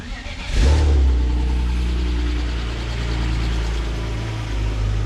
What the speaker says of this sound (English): Oh, I hear the lifter rattle.